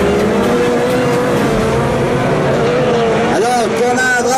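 Citroën Xsara and Volkswagen Polo rally cars battling at Plouay, a loud continuous engine roar with a rising and falling pitch near the end, under a commentator's voice.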